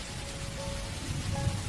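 Steady rain falls in a horror cartoon, a continuous wash of hiss that stays even and unbroken, with a faint low rumble underneath and no voices.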